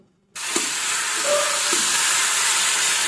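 Water hits a pan of frying mushroom curry and bursts into a loud, continuous sizzling hiss right after a brief quiet moment, staying strong and close to the end.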